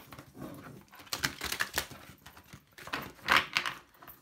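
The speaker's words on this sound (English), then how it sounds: "I have such a hard time with shuffling these tarot cards." A deck of tarot cards being shuffled by hand, giving soft papery riffles and crisp flicks in irregular bursts that grow louder toward the end, close up with no talking.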